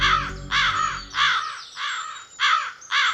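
A crow caws loudly and close by, six harsh calls in a steady sequence with brief pauses between them.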